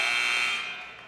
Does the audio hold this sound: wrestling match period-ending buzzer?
yes